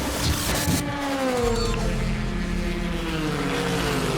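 TCR race cars battle down toward turn one at Daytona, engines howling loudly with rising and falling pitch as several cars pass close by.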